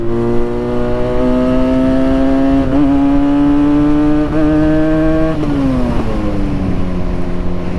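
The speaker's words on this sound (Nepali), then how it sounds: "यस्तो रमाइलो लाग्यो बाइक कुदाउन यार" A motorcycle speeds along the Kathmandu–Chitwan highway, its engine droning loudly with a rising, steady pitch before easing off near the end, close and continuous with no talk.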